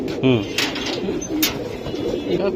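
Bezi pigeons coo close by in soft, low repeated calls, with a louder burst near the start, while someone talks over them.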